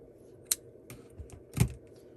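A few quiet scissor snips cut through knitting yarn close by, with a brief crisp click and then a louder, fuller snip against a faint, quiet background.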